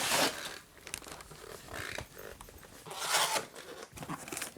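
Cutters snipping zip ties and pulling away packing materials from a boxed Chatham REV+ e-bike, with several close, scratchy bursts of cutting, tearing and rustling.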